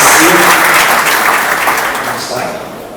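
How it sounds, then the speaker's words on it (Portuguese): A church congregation applauding during a family worship service, a dense, steady burst of clapping from many hands that fills the whole clip and slowly fades toward the end. "Vamos aplaudir a Jesus."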